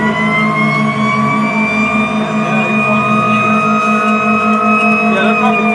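Fire engine siren as Engine 9-2 responds to a shed fire, a loud, continuous wailing tone that sweeps slowly up and down over a heavy engine rumble, close and steady throughout without talk.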